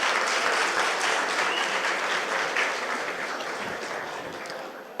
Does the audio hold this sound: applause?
yes